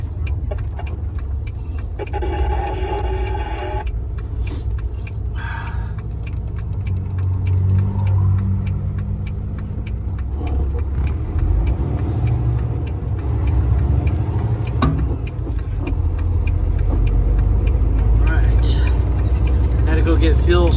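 A car cruises east on the freeway, a low rumbling road and engine drone running continuously while someone talks over it and occasional ticks and clicks come from inside the cabin.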